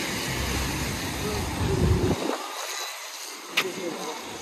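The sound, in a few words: strong wind blowing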